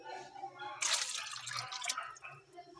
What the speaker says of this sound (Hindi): तो 3 कटोरी में इसमें मैं पानी ऐड करूँगी